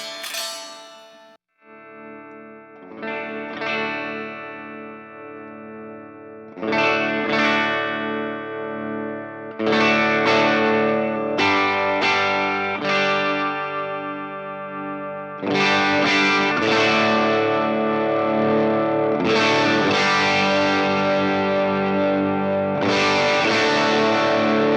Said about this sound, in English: get a fair amount of breakup out of my amp as just like my bass tone